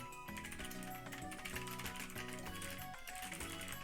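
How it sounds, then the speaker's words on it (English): Clicky mechanical computer keyboard switches clatter in a fast, continuous stream of close, loud keystrokes with no pauses. "I like the noise of keyboard typing, or I like the clicks and hearing the switches"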